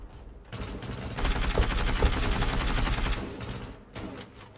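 Suppressed gunfire from the M468 rifle in the online shooter Zula, loud, dense rapid bursts that run almost continuously, briefly thinning near the end before a last short volley.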